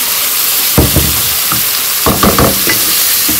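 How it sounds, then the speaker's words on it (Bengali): Loud, close sizzling of a blended garlic, onion and green chilli paste frying in a pan, with several sharp stirring scrapes and clacks of a utensil against the pan. "মশলাটা একটু কষিয়ে নিই"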